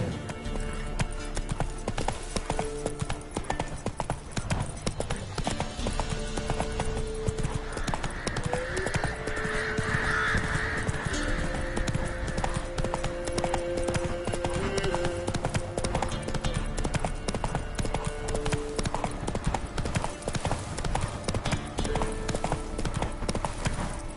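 In The Witcher 3, Geralt's horse Roach gallops with a dense, rhythmic drumming of hooves that carries steadily throughout, loud and near, backed by game music.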